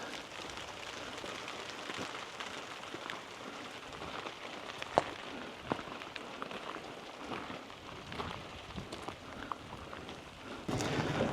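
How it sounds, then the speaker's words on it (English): Light to moderate rain falls steadily outdoors at a campsite, a soft continuous patter with occasional louder drop hits on surfaces and no talking. "it's definitely a light rain, probably to a mid rain, I would say"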